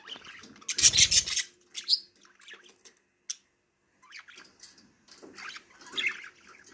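A pet parrot lets out one loud, close, harsh burst of chirping, followed by a few fainter, scattered chirps and soft rustling.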